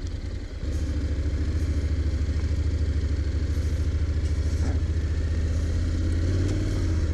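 A 2023 Honda NC750X DCT motorcycle running steadily close by with an automatic dual-clutch gearbox, its engine drone rising after a brief start and holding a continuous, fairly loud hum throughout.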